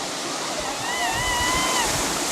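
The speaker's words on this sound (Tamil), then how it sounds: "பயங்கரமாக இருக்குது தண்ணி மேலே இருந்து விழுகிறது" Heavy water plunges down Talakona waterfall in a loud, steady roar with a faint whistling tone, close by and constant.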